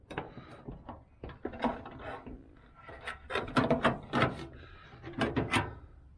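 A new sheet metal patch panel scrapes and rubs as it is slid and worked into place on the body of a 1981 Chevrolet Silverado, irregular metallic scraping bursts at close range without speech.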